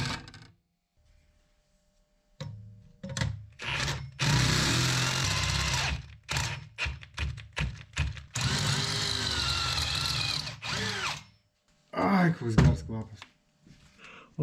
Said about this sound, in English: I'll try to drill with 14 millimeters